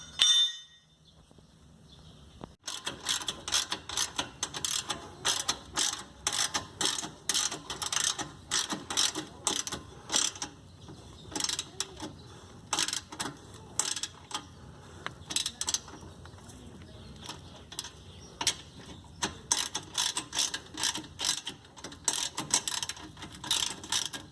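Close, crisp ratchet clicking comes in short repeated bursts with brief pauses as 2 bolts are driven in during a front sway bar and radiator bracket job on an ND Miata MX-5.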